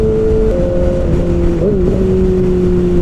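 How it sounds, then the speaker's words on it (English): A 2019 Kawasaki Ninja ZX-6R with a full M4 GP exhaust holds a loud, steady engine drone that shifts pitch briefly as gears change, heard up close and continuously. "when I really get on the throttle, really accelerate hard, quick shifting through the gears sounds so freaking cool"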